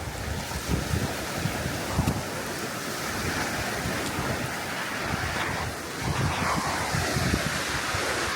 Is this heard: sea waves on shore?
yes